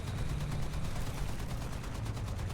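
Rapid automatic bursts from the T77E1 anti-aircraft gun in War Thunder, a steady, loud, continuous stream of pounding shots with a low engine rumble underneath.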